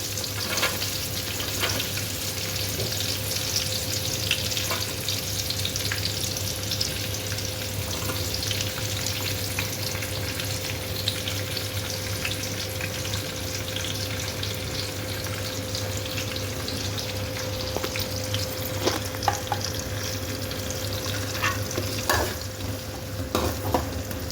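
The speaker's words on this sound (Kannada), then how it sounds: "ಇವಾಗ ಮಸಾಲೆ ಆಗಿದೆ, ಇದಕ್ಕೆ ಈರುಳ್ಳಿ ಹಾಕ್ತಾ ಇದ್ದೇನೆ" Onions frying in masala on a tawa for pulao, a continuous loud sizzle with frequent stirring scrapes and clicks, steady and close throughout.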